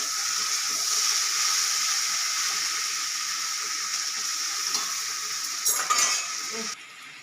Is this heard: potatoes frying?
yes